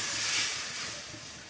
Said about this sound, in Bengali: একটু পানি দিয়ে মরিচগুলো কষিয়ে নিব।